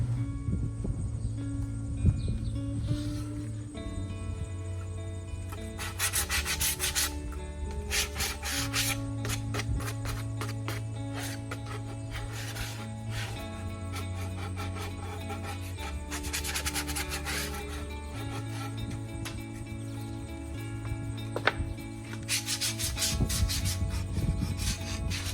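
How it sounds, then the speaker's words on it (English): Wooden pieces for a farmhouse mason jar wall hanging have their corners sanded by hand, giving a steady rasping rub that repeats in several bursts, up close and without talk. "let's sand all of the corners before we start"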